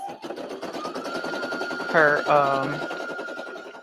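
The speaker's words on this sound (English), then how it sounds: "now we'll do the final stitch on the outline" An embroidery machine stitches a final outline on a 5x7 design, giving a steady, rapid mechanical whir with fast repetitive needle ticking throughout, plus a couple of brief brighter whines near the middle.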